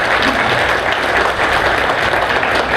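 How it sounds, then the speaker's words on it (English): Steady, dense applause from an audience at a local political candidate debate in Chipley, Florida, sustained and loud throughout with no pauses. "Round of applause for Jamie Westbrook."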